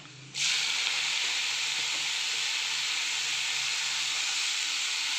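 Fresh spinach dropped into a pan of oil with browned garlic, bursting into a loud, sudden sizzle that settles into a steady hiss of frying leaves, nearby and without talk.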